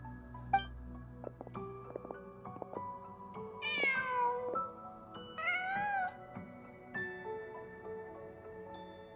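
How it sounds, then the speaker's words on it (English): A cat meowing in a winter-themed video game, two drawn-out rising meows over a quiet ambient musical background of sustained soft tones. "Huh. Just a cat."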